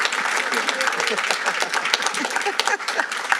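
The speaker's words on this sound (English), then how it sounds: "please, a round of applause for Erin" Applause at a city waterfront environmental committee meeting, a smaller crowd whose individual claps stand out, with some voices mixed in as it continues.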